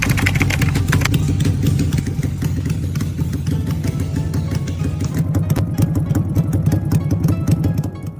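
A Benelli Napoleon Bob 250 V-twin motorcycle engine runs steadily, a loud, close, deep bass idle with a pulsing throb and slight rev variation throughout, heard alone.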